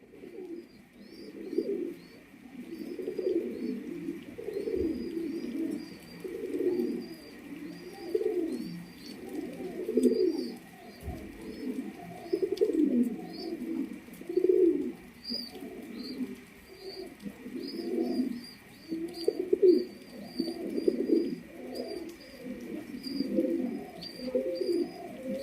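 Pigeons, including a Danish breed pair, coo continuously in low rolling bursts close by, with a steady background hum and occasional faint chirps and thumps.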